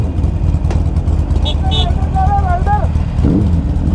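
Suzuki Hayabusa motorcycles setting off on a Sunday group ride, engines droning steadily and loudly close by, with a rising rev partway through and voices talking over the rumble.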